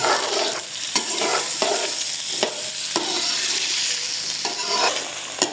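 Chopped onions frying in a pan for a cauliflower chicken dish, a steady loud sizzle broken by several sharp scraping stirs of a spoon at irregular intervals, with no voices.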